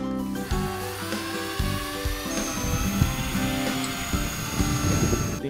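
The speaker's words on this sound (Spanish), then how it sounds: "Empezamos a pulir presionando ligeramente." A drill fitted with a Magic Renova sanding pad and water polishes a marble surface, whining steadily with a high rotating tone and shifting pitch as light pressure is applied, close up and without voices.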